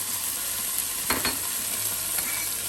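Onions and garlic fry in butter in a fry pan, giving a steady, close hiss of sizzling broken by a couple of brief stirring scrapes.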